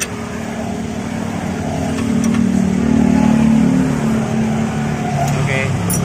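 A Toyota Avanza drives slowly over a rough, patched road with joint seams, its engine a steady mid-range hum that swells slightly midway, with faint knocks and rattles from the suspension.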